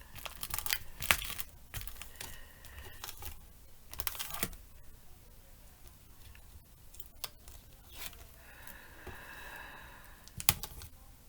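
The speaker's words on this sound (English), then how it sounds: "So we're going to peel this off." Backing being peeled off a paper panel for a Christmas shaker card, heard as a string of crisp tearing and crinkling rips, some quick and sharp, some drawn out, close by with no talking.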